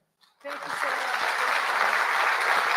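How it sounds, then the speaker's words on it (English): Audience applause at a UNIDO green industrialization dialogue event, starting abruptly after a brief moment of quiet and then holding as a full, steady round of clapping from a large crowd. "Once more, a big round of applause for DG van den Bergen."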